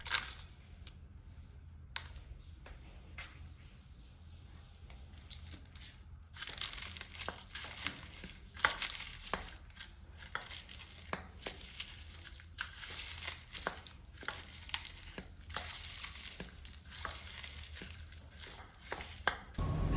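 Roasted chilies mashed with salt by hand, quiet scattered crunching and crinkling squishes that come in uneven bursts, growing busier after the first few seconds.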